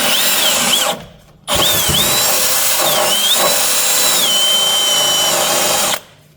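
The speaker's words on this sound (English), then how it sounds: "So we've got just the old drill with a wire wheel on" A power drill fitted with a wire wheel scrubs seam sealer off bolt heads on a car, whining loudly in two long bursts separated by a short pause, then stopping.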